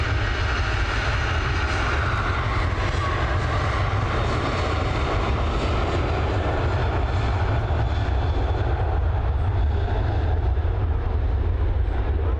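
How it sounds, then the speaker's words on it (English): A Ryanair jet takes off from runway 28 at Dublin Airport, with a loud, continuous engine roar that stays steady and dense throughout. "FR126 now on departure along runway 28 here at Dublin International, heading over to London Gatwick"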